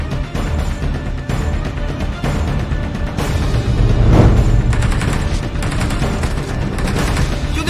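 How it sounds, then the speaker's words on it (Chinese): Repeated bursts of gunfire from a Chinese town-drama video game, Xiao Zhen Feng Yun, crackling steadily through the whole stretch with a louder swell midway, sharp shots layered over a dense low rumble of game sound. "别开枪了，真打中了怎么办？"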